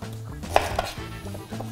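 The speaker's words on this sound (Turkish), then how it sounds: "biraz iri kıyım doğruyoruz" A knife chops peeled quince into coarse pieces on a board, with several quick, close cutting thuds in an uneven rhythm and no talk.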